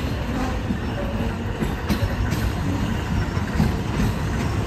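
A local passenger train, service 445, rumbles steadily along the rails of Thailand's Southern Line near Chumphon, loud and close, with a continuous roar and faint wheel clatter throughout.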